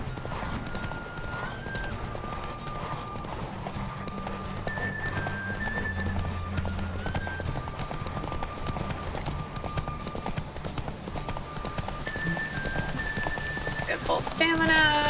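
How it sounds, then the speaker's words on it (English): Horse hooves galloping in The Witcher 3 video game during a horse race, continuous rapid clip-clop close by for the whole stretch, with a neigh near the end and game music tones above. "Is this what the horse racing's gonna be like?"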